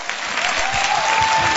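An audience claps in steady, full applause for a conversation event, a dense patter of many hands continuing throughout.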